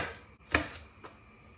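A knife slices shallots into thin slices on a cutting board, giving one clear chop followed by a fainter second cut, close and quiet, with no talking.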